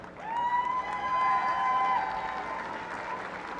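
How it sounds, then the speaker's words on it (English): Graduates at a community college commencement stand and applaud the audience, producing a swelling round of clapping with a sustained cheer-like tone over it before it tapers off. "how about the graduates give all the audience here a standing ovation and a hand clap?"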